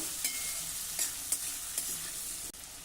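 Chopped spiny gourd with salt stirred in a hot pan, a steady close sizzle broken by a few distinct scraping strokes of the spoon, ending with a brief knock.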